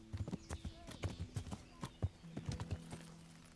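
Horse hooves clip-clopping in the video game Kingdom Come: Deliverance, an uneven run of close, crisp hoof strikes over a faint low hum.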